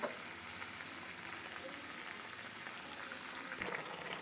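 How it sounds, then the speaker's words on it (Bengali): Eggplant curry boils in a pot with a faint, even bubbling and simmer that keeps up without a break, quiet and close, with no voices. "দেখেন আমাদের তরকারিটি বলক চলে হচ্ছে"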